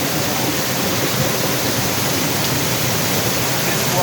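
A mountain waterfall in Duki pours down with a loud, steady, unbroken rush of falling water that stays close and constant throughout.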